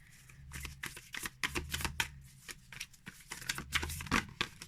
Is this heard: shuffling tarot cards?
yes